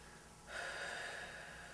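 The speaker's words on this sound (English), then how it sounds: "Now I want you to start breathing like Wonder Woman would breathe." A person takes a deep breath in through the nose, a short soft inhale that swells and holds, faint and close, with no words.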